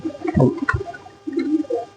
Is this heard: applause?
no